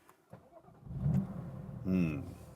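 A BMW M2 Competition's 3-litre six-cylinder engine starting: quiet rustling, a brief cranking build, then the engine catches with a loud, throaty revving burst close by.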